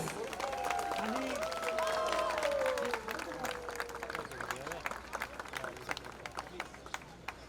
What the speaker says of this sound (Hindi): आज के इस इनॉग्रेशन का तालियों के साथ आगाज